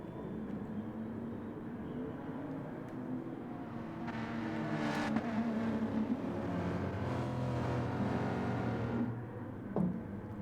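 Touring race cars rolling on a formation lap at Tsukuba in Gran Turismo Sport, a steady moderate engine drone that swells slightly midway, heard alone without talk.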